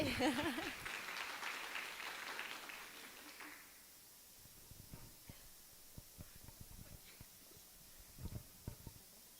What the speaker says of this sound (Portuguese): Palmas para a Heloíse.